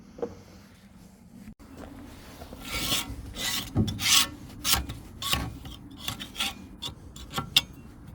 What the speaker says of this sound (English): just now I'm going to take these off, scrape all this crap off them